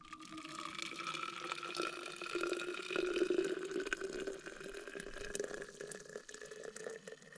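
Boiling water poured from a pot at a solo night campsite, a steady close liquid trickle and splash running throughout with no talk.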